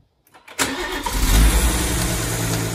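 A 2017 BMW M240i being rebuilt after a total loss cranks and starts, then settles into a loud, steady idle with a deep low rumble, heard close up after a brief quiet moment.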